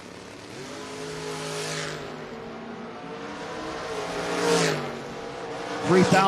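Drag racing door cars, including an '87 Camaro hot rod, roar past at the strip, with engine drone swelling and fading as the cars pass, ending in a sharper burst of noise.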